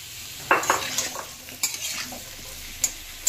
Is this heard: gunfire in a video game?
no